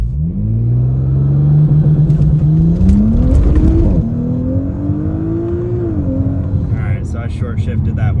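An Audi B9 S4 launching on EPL adjustable launch control with anti-lag: a loud, close engine holds a steady high rev, then climbs hard through the gears with a brief shift dip and spluttering pops at the end.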